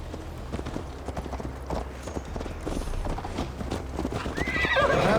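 Horses' hooves clip-clop in a steady galloping rhythm as riders mount up in Assassin's Creed Valhalla, with a horse whinnying near the end over a low ambient bed.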